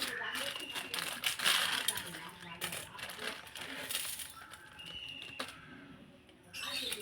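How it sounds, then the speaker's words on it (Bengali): Dry Maggi instant noodles crushed by hand in a home kitchen, giving a busy run of close crinkling, crackling and snapping bursts, loudest near the start, with brief faint voice. "ম্যাগিটা একটু গুঁড়ো করে নেব।"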